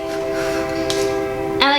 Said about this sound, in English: we live semi close to a train, but it sounds like it's right outside, it's crazy